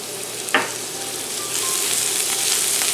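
Garlic with garam masala and turmeric frying in a pan, a steady bright sizzle growing louder, with a single clack of a stirring utensil near the start.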